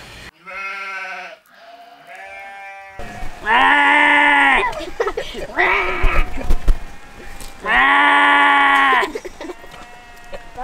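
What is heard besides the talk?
sheep bleating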